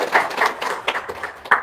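Audience clapping at an Indonesian religious talk, a short burst of scattered, moderately loud claps with uneven rhythm, no voice over it.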